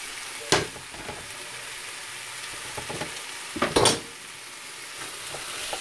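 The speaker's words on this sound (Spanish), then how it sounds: "ya echarle la cebolla, el chile dulce y luego le vamos a poner el tomate" Onion, sweet pepper and tomato fry in a pan with a steady sizzle, broken by a couple of louder bursts as ingredients are stirred or added, close and with no talking.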